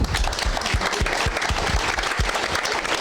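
An audience claps steadily, loud and dense, a full crowd applauding throughout.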